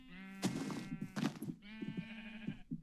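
Sheep bleating in a pen in the video game Minecraft: several distinct, nasal bleats in a row, close and fairly loud, with short pauses between calls and no talking.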